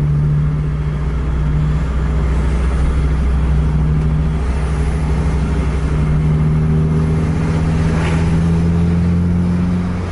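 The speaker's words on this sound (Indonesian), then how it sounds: "Banyak emang truk malam ini ya." Heavy road traffic at night, with trucks and buses passing, heard as a continuous loud engine drone from inside a moving bus, a sustained low hum shifting slowly in pitch with a brief whoosh of a vehicle going by.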